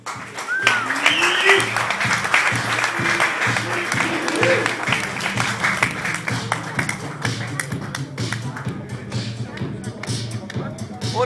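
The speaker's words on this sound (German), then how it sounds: "So, Applaus" A live audience bursts into steady, sustained applause for a man at a German comedy or stage event, the dense clapping filling the room for several seconds while scattered voices and taps come through underneath.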